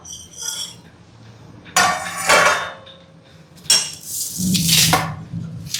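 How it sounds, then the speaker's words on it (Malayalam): Food, likely sambar, being stirred in a metal cooking pot, with a few loud clanking scrapes of the ladle against the pot separated by quieter pauses. "നമുക്കിത് നല്ലപോലെ ഒന്ന് ഇളക്കി കൊടുക്കാം"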